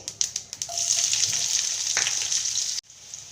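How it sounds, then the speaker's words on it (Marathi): Chopped onion drops into hot oil with cumin and mustard seeds, a close, steady sizzle with a few stirring scrapes, cutting off abruptly near the end. "आपले जिरे मोहरी छान परतले आपण त्यामध्ये आहे ना कांदा टाकू"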